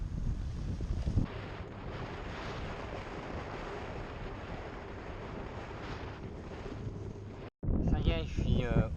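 Strong, roaring wind on the Atlantic coast at the southern tip of mainland Europe buffets the microphone in a continuous broadband rush, cutting out briefly near the end before a voice begins speaking over it.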